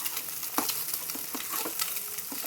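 Egg fried rice sizzles in a pan, a steady crackling fry broken by several sharp scraping stirs of the spatula against the metal, with no voices.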